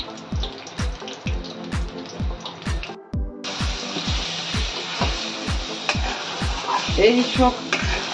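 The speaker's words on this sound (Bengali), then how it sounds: "এই ডাল বাটাটা একদম শুকনো শুকনো করে ভেজে নিতে হবে" Ground lentil paste being fried dry in a pan, with a steady, regular scraping or stirring rhythm of roughly two strokes per second and a continuous hiss underneath. The sizzling grows busier toward the end.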